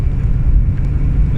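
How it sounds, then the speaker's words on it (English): Engine and exhaust of a 1986 Ford Mustang convertible while driving, a loud, steady low rumble with some wind noise over the open top. "You guys get to hear some exhaust and engine noise there."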